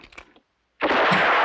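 Sustained loud burst of gunfire from the 1965 Western For a Few Dollars More, a dense roaring blast that follows faint movement noises and a brief silence.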